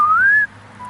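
A person imitates a whistle heard in an abandoned coal mine, producing a single clear rising whistled tone, close and loud, that cuts off and briefly returns fainter.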